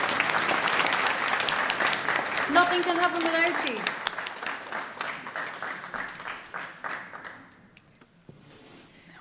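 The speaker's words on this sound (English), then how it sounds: "A round of applause for the gentlemen." A crowd at the Gaisce Gold Award ceremony with the President of Ireland claps loudly while a voice speaks over it. The applause thins out and fades to near quiet by the end.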